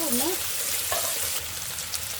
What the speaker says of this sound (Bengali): আমার এখানে পেঁয়াজ দেখেন ব্রাউন হয়ে এসছে, তো আর একটু ভাজা হবে